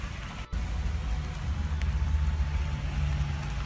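Steady rain falls throughout, a dense even hiss with a low rumbling layer beneath, broken by one brief dropout near the start; no voices are heard.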